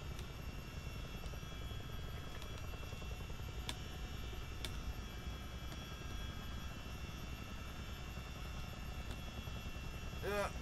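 A CH-47 Chinook tandem-rotor helicopter in Microsoft Flight Simulator gives a constant droning engine and rotor hum, even and unbroken, with a few faint clicks and a brief warbling tone near the end, no voices.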